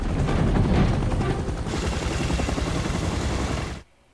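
A helicopter in a scene from the TV show LOST thunders with heavy rotor chop and wind noise, loud and continuous for nearly four seconds before cutting off abruptly.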